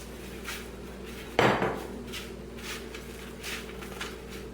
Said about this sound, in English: Take the remaining crumbs and place them on your prepared sheet tray.